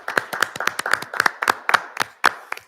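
Scattered applause for firefighters and volunteers at a township board meeting, a modest group clapping in distinct, uneven claps close to the microphone rather than a dense roar.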